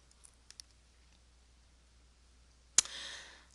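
Computer mouse clicks while navigating a Blackboard course page: a few soft, sharp ticks spaced apart over quiet room tone, followed by a louder click and a brief rustling burst.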